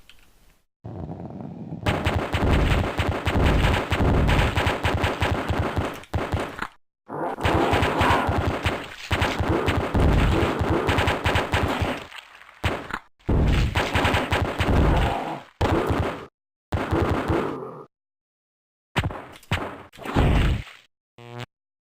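Submachine gun fire in the video game AOPID comes in loud, close, rapid bursts of several seconds each, separated by short silent pauses, with a few brief single volleys near the end.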